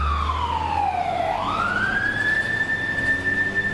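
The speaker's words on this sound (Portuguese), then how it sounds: "Você vê aí o constante alarme, o soar da sirene por todos os lados." A fire engine siren wails heading to the Twin Towers on September 11, sweeping down in pitch and then rising again to a sustained high tone over a low traffic rumble.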